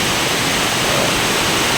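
Heavy rain pours down in a dense, steady broadband rush, loud and close with no breaks, without voices.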